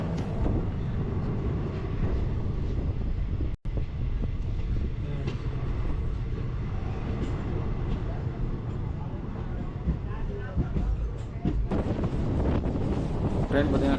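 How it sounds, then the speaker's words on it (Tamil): Strong wind buffeting the microphone aboard a fast-moving train between Belagavi and Karur, a constant loud roar and rumble of the rail carriage with gusty noise throughout and a brief dropout partway. "ட்ரெயின் பார்த்தீங்கன்னா காற்று செம்ம காற்று அடிக்குது."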